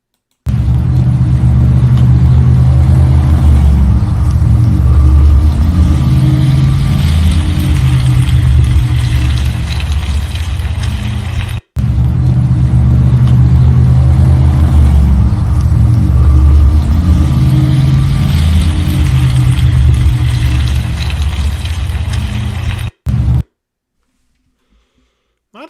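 A costly car's engine roars loudly and steadily for about twenty-three seconds with heavy low rumble, broken by one brief cut near the middle, then falls silent.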